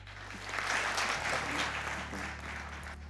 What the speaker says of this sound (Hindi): नहीं तालियां होनी चाहिए